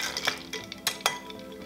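A few quick clinks and stirring strokes as a Tanqueray gin cocktail is mixed, short bright taps of spoon against glass over a quiet background.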